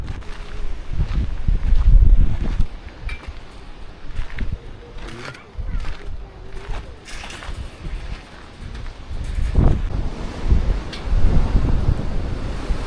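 Strong wind buffets the microphone at an open scenic viewpoint on a road trip, roaring in uneven gusts throughout with low rumbling surges and a faint surf-like wash.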